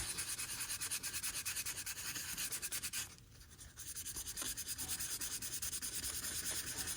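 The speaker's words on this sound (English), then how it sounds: "Let's scuff this up just a little bit right here." A surface is scuffed by hand so glue will grip, giving a steady, close, dry rubbing and sanding rasp that drops away briefly near the middle before carrying on.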